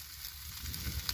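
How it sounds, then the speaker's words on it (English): A bacon cheddar burger sizzles on a grill in a steady, hissing fry with faint crackles and pops, close and continuous. "Listen to the sizzle. Gotta have that sizzle,"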